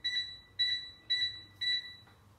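LG electric stove control panel beeping as its timer button is pressed: four evenly spaced, bright electronic beeps, close and clear, with no talking.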